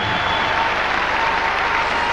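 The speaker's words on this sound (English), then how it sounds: "The crowd in the Royal Albert Hall roar their approval for this, giving it the biggest hand of the night." A large crowd in the Royal Albert Hall applauds, a dense, steady roar of clapping that stays loud throughout.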